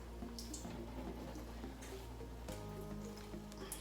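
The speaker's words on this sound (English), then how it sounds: "As you can see, it's very tight and all the water is coming out." Water dripping and trickling from fresh homemade paneer squeezed tightly in a cloth, soft close-up drips and squishy liquid sounds at a low level over a steady background hum.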